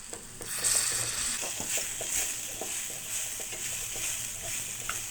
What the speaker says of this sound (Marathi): जिरं मोहरी टाकून घेते, थोडं हिंग टाकते, मिक्सरमधनं काढलेलं वाटण टाकते, हळद टाकते, तिखट, धणे जिरे पावडर, फ्लावर टाकते